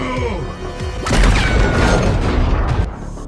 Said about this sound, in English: Bumblebee used the missiles in the enemy's hands to launch a last-ditch attack.